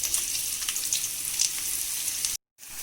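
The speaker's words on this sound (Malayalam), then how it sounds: "നമ്മളിവിടെ പാനിൽ വെളിച്ചെണ്ണ ഒഴിച്ചിട്ടുണ്ട്. അതിലേക്ക് നമുക്ക് സവോള ഇട്ട് കൊടുക്കാം" Sliced onions frying in coconut oil in a pan give a close, even sizzle that cuts out abruptly near the end and then returns briefly.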